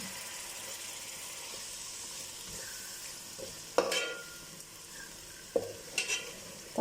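Tomatoes and curd frying in a pan for Chennai-style chicken biryani, a low steady sizzle with a couple of sharp clatters of stirring partway through, heard alone without talk.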